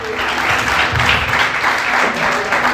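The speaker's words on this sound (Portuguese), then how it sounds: "Aplauda o Senhor nessa noite." A church congregation applauds during a Portuguese-language evening service, with a short burst of loud, dense clapping and some murmuring voices mixed in.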